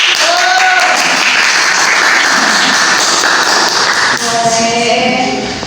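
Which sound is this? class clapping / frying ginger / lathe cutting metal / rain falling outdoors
class clapping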